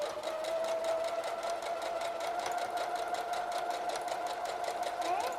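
A sewing machine stitches through sweater fabric for a mitten, a continuous rapid whirring chatter with a steady motor hum, close and moderately quiet, running unbroken without speech.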